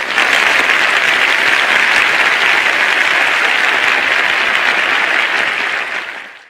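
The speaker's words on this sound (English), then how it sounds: "after the applause for the conductor appearing on stage and bowing" A concert audience applauds the conductor as he appears on stage and bows before a symphonic performance, a dense, steady wash of clapping from a large crowd that fades out at the end.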